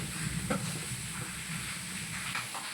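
Ingredients sizzling in hot cooking oil in a bowl, a steady close hiss and crackle with a few soft stirring knocks, no talk.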